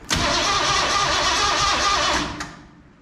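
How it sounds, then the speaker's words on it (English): A Ford 302 V8 fitted in a 1968 Chevy C10 pickup is cranked over on the starter with no spark, giving a loud, steady churning whir for about two seconds that then cuts off without the engine firing. "I'm gonna crank it over without spark."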